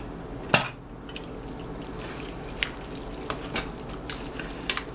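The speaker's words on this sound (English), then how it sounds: "I'm going to mix the sauce and the spaghetti" Tomato sauce is mixed into baked spaghetti squash, giving soft wet squelching and a few sharp clicks of a utensil against the dish, close and intermittent with no talk.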